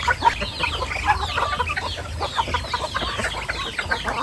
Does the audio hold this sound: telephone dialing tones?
no